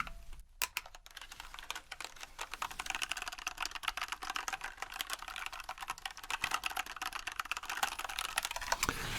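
Fast, continuous clicky typing on a white computer keyboard, close and crisp, with a brief pause near the start and no voices.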